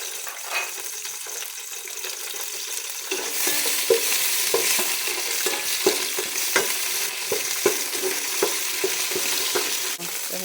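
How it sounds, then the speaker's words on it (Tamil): Cinnamon and clove pieces crackle and sizzle in hot cooking oil, with a steady frying hiss that swells after a few seconds and is dotted with small pops and stirring scrapes, close by with no voices. "ஸ்பைஸ் போடுறோம், அடுத்து வச்சுருந்தா பட்டை கிராம்பெல்லாம் போடுறோம்."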